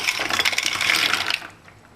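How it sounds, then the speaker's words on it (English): Dry pennoni, a large penne pasta, tumbles into a pot of salted water with a splashy, rattling rush lasting about a second and a half before fading to near quiet. "Pop that in some salted water"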